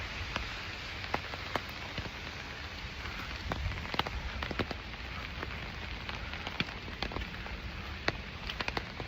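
Rain falls at temples and shrines in Jozankei, a steady moderate patter with scattered sharp drips and taps close by, and no one speaking.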